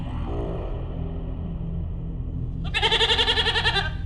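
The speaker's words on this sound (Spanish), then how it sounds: "Ese nuevo balido me despertó aquella noche." A goat lets out one loud, wavering bleat that rises out of a low rumbling background, close by and alone, lasting just over a second.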